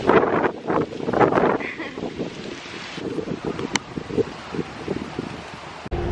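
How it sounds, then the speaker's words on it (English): Warm wind blowing outdoors in an open, pleasant spot, gusting across the microphone with rumbling buffets and a steady rush, close and fairly loud, with no one speaking. "This is a warm wind."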